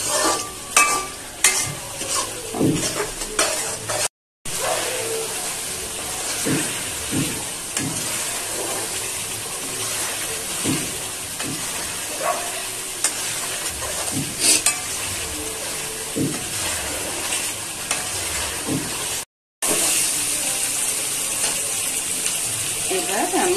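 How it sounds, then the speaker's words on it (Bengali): Spice masala with fried chicken being stirred in a pan for a Bengali chicken and potato curry: repeated spatula scrapes and clanks over steady sizzling, close and fairly loud, broken by two brief silent cuts. "একটু মশলাটা ভালোভাবে কষিয়ে নিই।"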